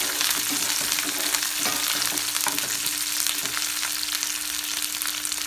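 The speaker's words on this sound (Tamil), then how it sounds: "நல்லா ஆனியன் கோல்டன் கலர் ஆகிற வரைக்கும் ஃப்ரை பண்ணி எடுத்துக்கணும்." Onions, curry leaves and dried red chillies fry in a pan with a loud, steady sizzle and crackle, with faint scrapes of stirring and no talking.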